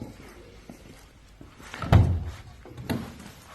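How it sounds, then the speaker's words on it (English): Aluminium-skinned doors on a BMW salt lake race car with a full roll cage are opened: two solid thunks, the first louder, over quiet background. "So come with me, let's open some doors."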